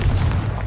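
Confringo spell explosion in a Hogwarts video game, a single short, loud, booming blast that fades quickly.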